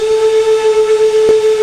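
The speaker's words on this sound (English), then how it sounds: "You can kind of hear that crackling there partway where the loop starts to take over." A Baldwin 4-4-0 steam locomotive of the V&T in Trainz 2019 gives a steady, loud whistle-like steam tone, broken once near the end by a single sharp crackling pop where the sound loop restarts.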